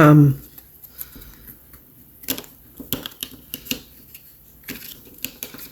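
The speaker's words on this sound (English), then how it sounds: "I'm getting 2, so I'm going to reshuffle." A small deck of cards is shuffled by hand, giving a series of quick, crisp riffling and tapping bursts at close range after a brief voice at the start.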